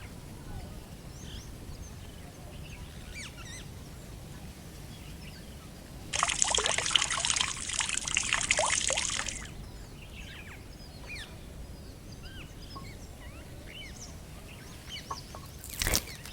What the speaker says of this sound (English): that's me going to my tap to wash my ingredients